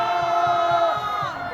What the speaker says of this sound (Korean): 20대가 깨어났습니다. 20대 앞으로 함성.